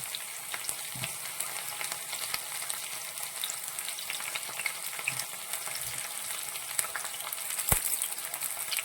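Ginger, garlic, green chilli and curry leaves sautéing in a pan for bitter gourd pickle, a soft, steady hiss of frying with light scattered crackles and one sharp knock, fairly faint.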